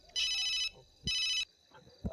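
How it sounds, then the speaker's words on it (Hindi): A phone ringtone plays two short electronic bursts with a brief gap between them, fairly quiet, with a faint voice at the end. "पापा का फोन है।"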